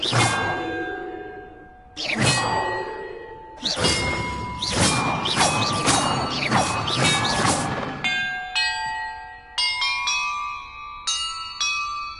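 Bells in Hogwarts Legacy ring out one after another, loud and resonant with long ringing tails, first in heavy clanging bursts and then as a series of clearer, separate chimes.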